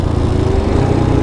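Motorcycle engine droning loud and close while riding through sand, a steady, rough, unbroken growl for just over a second with no talk.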